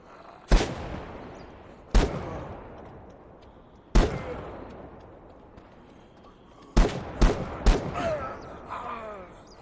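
Gunfire in the zombie survival video game The Day Before: loud, sharp single shots with echoing tails, spaced a second or two apart, then a quicker cluster of three near the end.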